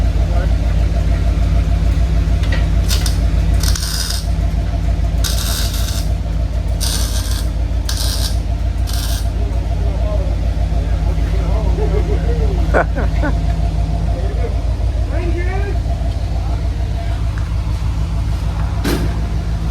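A car with a newly installed exhaust idles with a deep, steady rumble close by, while someone talks over it and a few sharper clanks and rustles break in.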